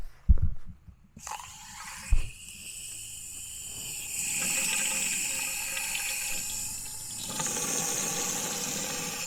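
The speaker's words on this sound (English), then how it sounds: "when water starts flowing out of that hole, it's done filling up." Water runs into a watering container for a pepper plant in a garden, a steady gurgling flow that follows a couple of knocks and keeps going for several seconds before the pitch shifts near the end.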